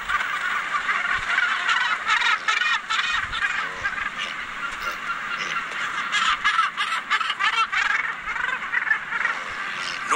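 A large Cape gannet breeding colony of some 60,000 birds calls continuously, a dense overlapping chorus of harsh honking cries rising and falling without pause, loud and close throughout.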